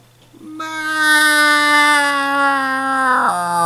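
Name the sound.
voice imitating a cat meow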